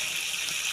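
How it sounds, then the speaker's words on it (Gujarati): Water is poured into a pot of potatoes while cooking, a brief, steady splashing gush, close and moderately loud, with no talking. "હવે આપણે અંદર પાણી એડ કરીએ."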